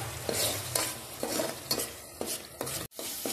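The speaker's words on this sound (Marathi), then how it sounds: "खोबरं, आलं लसूण घालून पण चांगलं परतून घ्यायचं, त्याला पण तेल सुटलं पाहिजे" Coconut and ginger-garlic masala paste sautéed in oil for a prawn curry, with a steady low sizzle broken by repeated spatula scrapes and stirs against the pan, close and clear, no talk.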